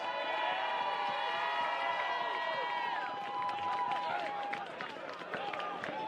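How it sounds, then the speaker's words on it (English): A stadium crowd applauds the McQuaid Knights as Class AA Section 5 high school football champions after the McQuaid vs Aquinas final. Scattered clapping and cheering builds beneath an echoing public-address voice, then continues as a steady patter. "let's have a nice round of applause for your Class AA champions"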